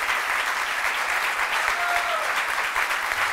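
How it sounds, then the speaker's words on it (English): Steady, warm applause fills a hall at a dinner with Greek-American community representatives, many hands clapping together in a dense, continuous wash that holds its level throughout with no break. "Thank you very much for your"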